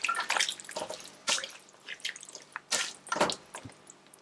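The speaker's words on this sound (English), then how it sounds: "And we are adding some hot water." Hot water poured and splashing into a cooking pot while making Persian loubia polo, heard as irregular close splashes and drips in short bursts, fairly quiet with pauses between.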